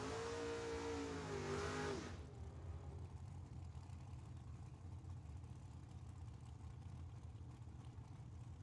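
A drag race launch at Tucson Dragway pits a dragster against a Camaro; loud engines roar at the start, then a steady engine rumble carries on at a distance after the initial burst.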